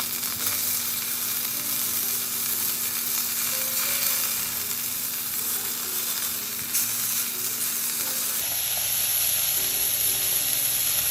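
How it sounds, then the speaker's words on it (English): Beef fillet searing in a hot pan for Beef Wellington, a steady loud sizzle and crackle throughout, shifting slightly in tone near the end, with no voices. "so let's go sear the other side"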